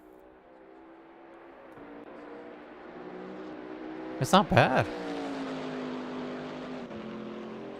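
A GT4 race car engine at the Nurburgring GP circuit drones steadily in the distance, swelling slowly as it approaches, while a commentator speaks briefly over it.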